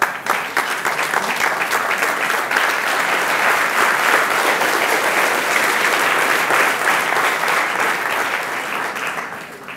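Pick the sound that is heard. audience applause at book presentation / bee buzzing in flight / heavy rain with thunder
audience applause at book presentation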